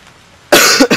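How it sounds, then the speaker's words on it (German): A single harsh, close cough from a person who has been ill bursts out abruptly after near silence, followed by a brief second rasp. "Tut mir leid für das Husten."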